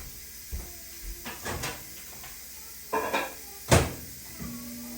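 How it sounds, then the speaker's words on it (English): A few knocks and clunks of a microwave door opening and shutting, then a button beep and a low hum as it starts running. "Let me soften it in the microwave."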